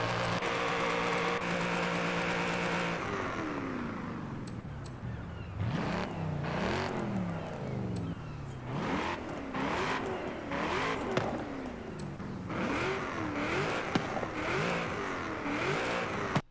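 A tuned Holden car engine in Forza Horizon 5 holds a steady idle, then revs repeatedly in rising and falling surges, loud and close, with occasional tyre squeal.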